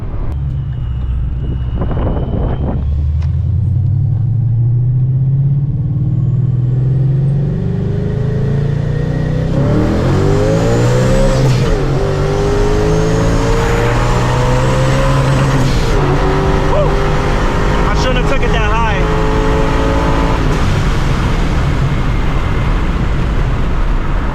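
ProCharged Ford Mustang accelerating hard through the gears, a loud, close engine roar climbing in pitch with each pull, dropping at shifts and rising again, continuous for the full length.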